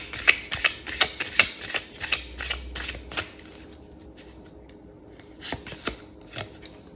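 A tarot card deck is shuffled by hand in close, crisp bursts of riffling and slapping cards, irregular in rhythm with short pauses, no talking.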